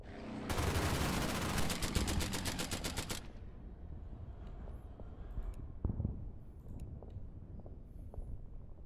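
Spitfire machine guns firing on a Ki 67 Hiryu bomber in the wargame Order of Battle: a loud rapid burst of automatic fire, followed by lingering rumble and scattered distant impacts.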